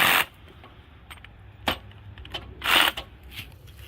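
A stalk of sugar cane is cut at an angle: a few sharp, close snapping chops, one clear crack near the start, another around the middle and a longer crunching cut after, with quiet gaps between.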